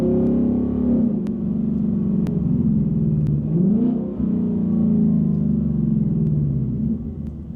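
A 2024 Mustang GT with a Corsa Extreme valved exhaust in track mode drones loudly in a steady low engine tone, shifting pitch briefly mid-way as it downshifts from sixth gear, close and without talk.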